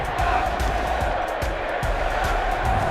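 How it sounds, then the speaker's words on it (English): A loud football crowd at Acrisure Stadium in Pittsburgh on game day, a dense, continuous roar of many voices with rhythmic rises throughout. "The crowd at Acrisure is so loud"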